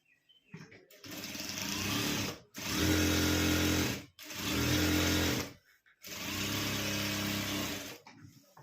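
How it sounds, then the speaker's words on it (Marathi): A sewing machine stitches old jeans fabric in four bursts of steady motor whirring, separated by short pauses. It is close and loud, with faint handling noise between runs. "बघा अशी एक टीप मारून घ्यायची पहिले"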